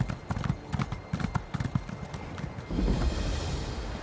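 Horse hooves clip-clop in a quick riding rhythm in The Elder Scrolls Online, near and distinct, then give way to a broader rumble of movement and ambience toward the end.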